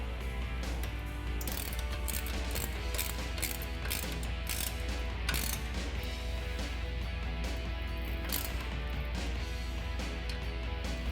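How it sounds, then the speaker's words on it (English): A ratchet with a 13 mm socket tightens a factory bolt on a Jeep Wrangler JL suspension, giving repeated quick clicking strokes in uneven bursts over a steady low hum, close and moderately loud, with no voices. "you can tighten it up using a 13 millimeter socket"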